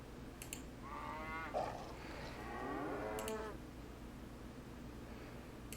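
Cows mooing in the Nancy Drew: The Captive Curse video game, two long, low, drawn-out moos over a steady background hum, fairly close and unaccompanied by talk.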